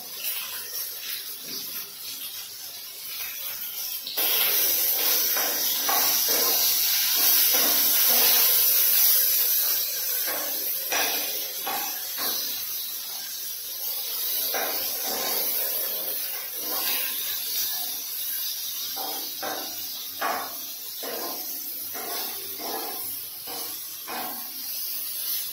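Okra (lady finger) frying lightly in a pan with salt and turmeric, a steady bright sizzle that swells louder partway through and keeps crackling with small pops, no talking over it.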